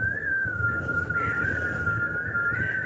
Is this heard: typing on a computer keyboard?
no